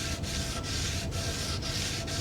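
Continuous abrasive sanding of a motorcycle wheel with a steady back-and-forth rhythm, close and fairly loud, with short regular dips in the scraping.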